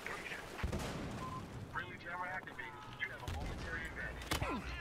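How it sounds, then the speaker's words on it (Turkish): Gunfire from an enemy shooter in the video game Battlefield Hardline: sharp, irregular shots and impacts crack through a dense, noisy game soundscape, mixed with indistinct voices throughout. "Oha, nereden vuruyor bilmiyorum."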